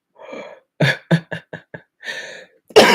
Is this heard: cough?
yes